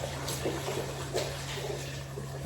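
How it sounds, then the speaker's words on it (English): Liquid is poured slowly into a crock pot over pot roast stew ingredients, a soft, continuous trickle close by with a faint low hum beneath it. "So you want to give it a nice slow pour. Avoid as much splashing as possible."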